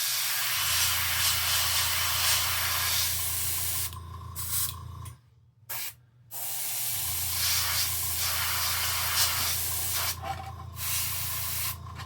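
An airbrush sprays paint while partly clogged, making a loud, continuous close hiss that stops briefly partway through and then resumes.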